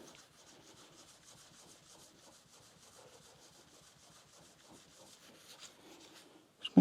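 Chrome on a Royal Enfield Classic 350's rusty exhaust bracket is rubbed and polished with a quiet, steady scrubbing rhythm, faint and close, and ends in a couple of sharp knocks.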